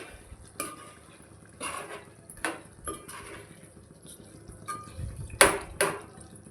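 Chicken and chana dal curry gets stirred in a pot, with a spoon clinking and scraping against metal in irregular bursts and thick, wet sloshing between strokes.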